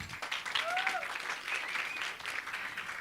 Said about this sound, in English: Let's give Khanyisile just another huge round of applause.